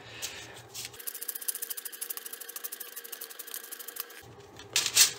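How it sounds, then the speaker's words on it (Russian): The front end nut of a carbon telescopic baton is unscrewed with a rapid, even train of fine ratcheting clicks lasting about three seconds, close up, between quieter handling noises and a final clack. "Здесь вся разборка происходит при помощи откручивания передней торцевой гайки."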